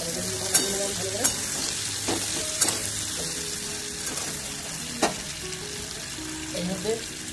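Cauliflower and spinach fry in a pan with white sesame, and water is added. A steady loud sizzle runs throughout, punctuated by several sharp utensil clinks and stirring scrapes against the pan.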